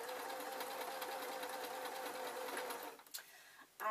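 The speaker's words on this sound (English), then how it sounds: "I'm going to sew this oval there" A domestic sewing machine stitches a fabric oval onto a glasses case in a steady, even whir that runs close and continuous, then stops briefly near the end before starting up again.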